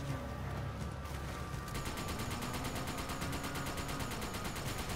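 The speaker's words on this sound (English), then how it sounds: "I'm on my sniper rifle" Rapid bursts of gunfire ring out in a video game, where a player is on a sniper rifle, coming as a steady rattling train of shots over continuous background game noise.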